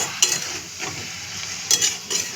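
Chicken pieces sizzle steadily in a hot pan while a utensil stirs and scrapes through them in a few distinct bursts, close up with no talking.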